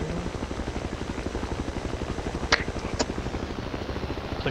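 A helicopter in the video game Battlefield 2 thuds with a steady, rapid rotor beat that stays loud and close throughout, with a couple of brief sharp clicks on top.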